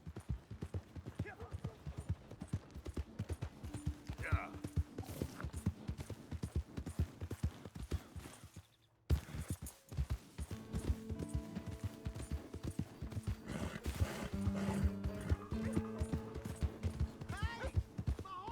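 Horse hooves clip-clop in a steady rhythm through the Red Dead Redemption 2 game world, mixed with game music and voices, with a short drop to near silence midway before the trotting resumes.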